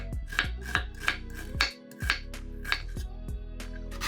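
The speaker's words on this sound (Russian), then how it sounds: "Одну луковицу нарезаем кубиками" A knife dicing an onion on a cutting board with sharp, fairly regular knocks, about ten cuts in a few seconds, close and distinct.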